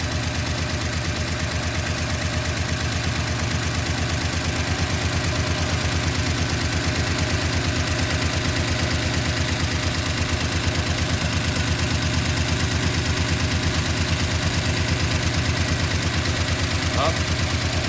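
A 1969 Chevrolet C10 pickup engine idles while warming up, running with no fuel pump fitted, a steady, close, even rumble with a fine regular pulse that continues unchanged for nearly eighteen seconds.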